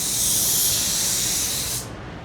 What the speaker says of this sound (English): You have to spray it where you're leaving somewhat of a hard edge, but don't intentionally tilt your gun and leave a harder edge